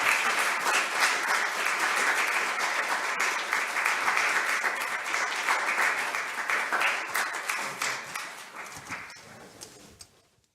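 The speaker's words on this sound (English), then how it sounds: "I ask you all to give a big round of applause to our panelists" Conference audience applauding panelists with dense, steady clapping that slowly thins out and fades to scattered claps before stopping.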